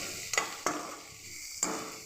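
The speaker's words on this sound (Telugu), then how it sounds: "అన్ని వెజిటేబుల్స్ కూడా వేసేసుకుని ఫ్రై చేసుకుందాం." Mixed vegetables frying in a pan for palak fried rice, with a soft sizzle under three sharp utensil taps from stirring, close and fairly quiet.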